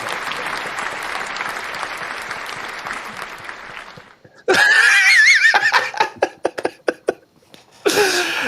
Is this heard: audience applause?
yes